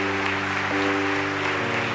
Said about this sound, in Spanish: Denle ese aplauso fuerte al que vive.